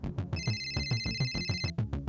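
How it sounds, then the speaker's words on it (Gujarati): A mobile phone rings indoors with a loud, repeating electronic ringtone, a rapid pulsing pattern of bright tones close by, with no talking over it. "તારો ફોન વાગે છે."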